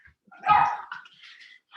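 A dog barks once, sharply and fairly close, followed by softer whimpering and yipping from somewhere else in the house during a quiet home yoga session.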